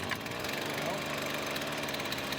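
A lawn mower engine runs at a steady, loud drone after being primed and started, with no pause throughout.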